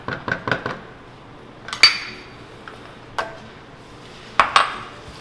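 A utensil clinks against a bowl while marinade for Vietnamese grilled pork is mixed, a few quick light taps followed by sparse, isolated clinks in a quiet room.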